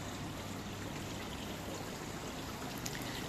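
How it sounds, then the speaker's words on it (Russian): Steady rushing water flows continuously, a dense broadband wash that stays even throughout with no pauses. "И такой вот шум воды,"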